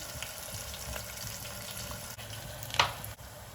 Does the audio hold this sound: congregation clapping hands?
no